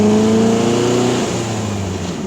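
A 1969 Volkswagen Buggy engine revving up through the gears, a loud, close air-cooled drone climbing in pitch, then dropping back as it shifts, with no talking.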